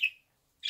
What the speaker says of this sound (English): So I got him a kakariki bird.